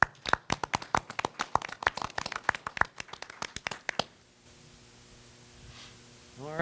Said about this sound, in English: We would give Officer Bryant one more round of applause